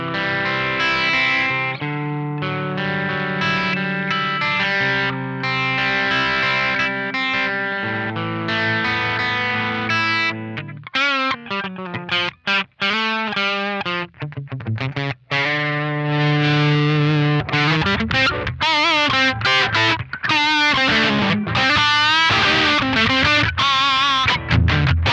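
An electric guitar played through a ProCo Little RAT distortion pedal, opening with long sustained distorted chords and then moving into choppy, rhythmic riffs and bent lead notes, loud, close and with no voices.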